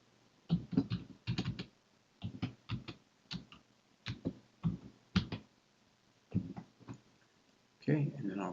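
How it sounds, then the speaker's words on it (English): Someone types a password on a computer keyboard at a login prompt, in short bursts of close, crisp keystrokes separated by brief pauses, with a louder clustered flurry near the end. "I'm going to type in my password"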